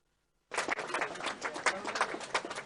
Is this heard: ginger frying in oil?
no